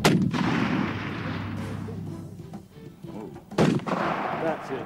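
Target shooting: two loud, sharp gunshots about three and a half seconds apart, each with a long rumbling echo trailing off, no voices over them.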